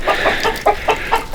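A gray rooster clucks outdoors on a Mississippi farm the night before an ice storm, giving a quick run of five or six loud, close, rhythmic clucks with no talking.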